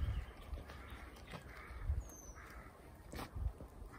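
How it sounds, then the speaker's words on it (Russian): Crows caw faintly and far off in a pine forest, a few hoarse calls spread across an otherwise quiet stretch. "Вороны закаркали."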